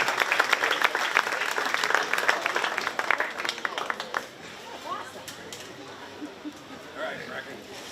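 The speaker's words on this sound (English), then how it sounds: "Let's give that young man a big round of applause for your reserve heavyweight." Crowd applause for the reserve heavyweight winner at the 2023 Shelby County Fair 4-H swine show, brisk clapping that fades after about four seconds into quieter chatter with some voices.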